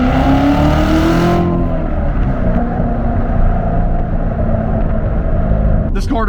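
A 2017 Corvette Z06 with a manual gearbox roars loudly and steadily from the driver's seat, its engine revving hard under acceleration, then the note drops sharply as the throttle lifts, with a brief click near the end.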